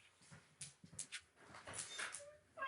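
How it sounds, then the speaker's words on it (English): A dog whimpers and yips repeatedly near a door, several short high whines in uneven bursts, fairly close and moderately loud, with faint room noise between them. "Let me let the dog out just a second."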